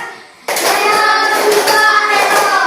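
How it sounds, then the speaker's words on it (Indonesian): Schoolchildren in a classroom launch into a group clapping ice-breaker routine, a sudden loud wash of many hands clapping that continues steadily to the end. "Tepuk mesin non cerdas."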